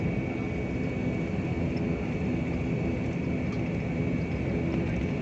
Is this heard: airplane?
yes